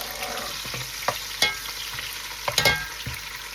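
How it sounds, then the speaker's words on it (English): Onion is stirred in a frying pan over a steady sizzle, with several distinct spatula scrapes and knocks against the pan, up close and without talk. "my onion. I'm just going to stir it."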